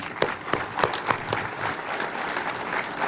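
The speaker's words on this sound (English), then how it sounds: "So a big round of applause for Taylor." Applause from a crowd at a university athletics facility dedication, a soft, fairly distant patter of clapping with a few sharper claps standing out near the start.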